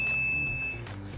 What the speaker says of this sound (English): and we hear it beep. This means, hey, I'm talking with the car right now.